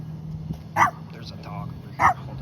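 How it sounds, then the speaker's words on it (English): An outdoor dog barks twice, a few seconds apart, at moderate distance over a steady low hum and light background noise. "There's a dog over here."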